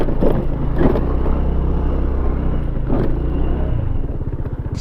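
Honda ADV 110 and ADV 150 scooters riding along, a steady close engine drone with low rumble and a slight shift in pitch near the end, no voices.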